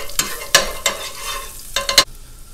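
Minced garlic frying in melted butter and olive oil in a pan, with soft sizzling and a few sharp stirring scrapes in bursts, close and fairly quiet, no talking.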